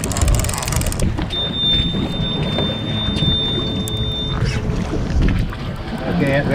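Fishing boat motor droning steadily at sea with wind noise across the microphone, loud and close, with a thin whine and some clatter near the end.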